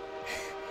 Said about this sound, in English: It made a train noise.